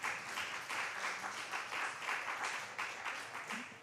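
Audience at an AI summit applauds award winners, a steady mid-distance patter of many hands clapping with no talk over it.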